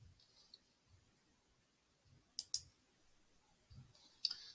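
Computer mouse clicks in Inventor Studio, several faint, crisp, close clicks spaced irregularly, some in quick pairs, in an otherwise quiet room.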